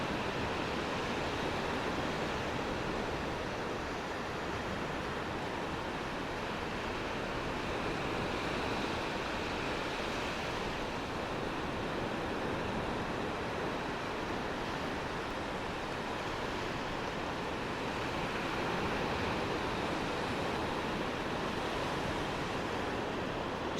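Ocean surf rolling and breaking continuously at a surfing spot, a steady broadband wash of waves with gentle swells in loudness and no voices over it.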